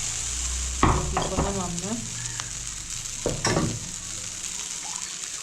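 Moong dal with winter vegetables is stirred in a pan over a steady sizzle, with scraping strokes near the start and again midway, and a voice briefly speaks over it.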